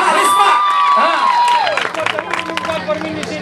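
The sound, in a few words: children cheering and clapping for the village chief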